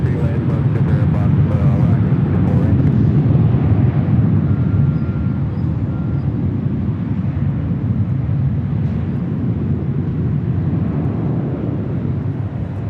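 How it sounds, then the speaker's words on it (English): A Southwest Airlines Boeing 737-700 departs Los Angeles International Airport, its jet engines a loud, heavy low roar that holds steady and slowly fades, with a voice talking over it. "This departure is Southwest Airlines 2323 departing to El Paso, Texas. 737-700."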